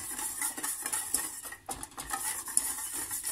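A utensil stirs chocolate into a hot flan mixture in a pan, producing soft scraping and clinking against the metal in a quiet, steady rhythm, close up with no talking.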